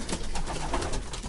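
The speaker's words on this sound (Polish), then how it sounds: "Sobie tutaj gołąbki siedzą." Pigeons coo steadily inside a pigeon loft, with several soft, overlapping murmuring calls close by throughout and no talking.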